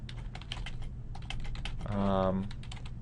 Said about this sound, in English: So they can just click on their slide and start typing.